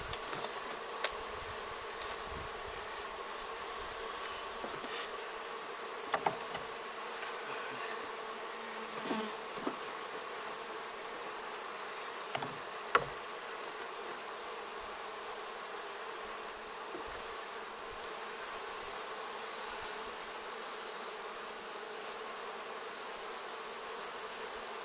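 Steady, dense buzzing of many honeybees around a hive, constant and close, with a few faint knocks and clicks now and then.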